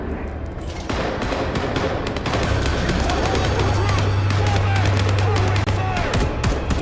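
Dense, rapid gunfire rattles continuously in the Bloodlines 2 video game, loud automatic bursts and shots overlapping one another for several seconds against a low rumbling backdrop.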